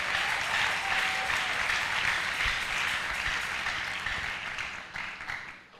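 A church congregation applauds in steady, dense clapping that fills the room, then slowly thins and fades toward the end.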